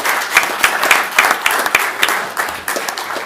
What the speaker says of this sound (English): we all owe her a great applause for the work she's done